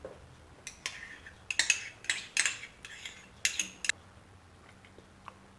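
Mayonnaise is stirred into instant noodles in a plastic bucket, making close clattering, scraping utensil strokes in uneven bursts that fade toward the end, with no talk.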